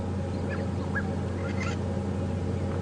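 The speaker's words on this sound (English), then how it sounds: "the saddlewood stork and shots are water thickneys, which are very vocal birds, especially at night" Water thick-knees calling on a safari drive at Djuma Game Reserve, several short piping whistles rising over a constant low engine-like drone.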